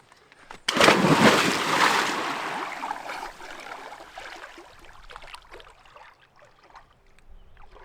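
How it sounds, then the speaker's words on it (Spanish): Water splashes loudly as a hiker enters and swims in a lake on the Sunshine Coast Trail, with a burst of churning splashes that gradually settles into softer lapping and trickling. "después de un buen chapuzón en este lago"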